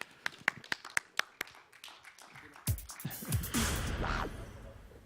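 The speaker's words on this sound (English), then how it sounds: "And applaud, everyone." A handful of people clap at a university gaming league grand final, several sharp separate claps at first, then a brief louder burst as a voice talks over it.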